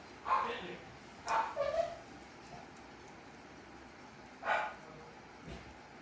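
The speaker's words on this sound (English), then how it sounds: "that's my dog barking." A dog barks a few times in the distance, short yelps spaced apart over a quiet background hum.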